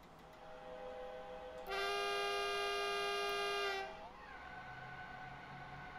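A train departing Ohlstadt station on the Munich to Garmisch-Partenkirchen line sounds a steady, loud horn tone for about two seconds, then a lower tone holds over a low running rumble.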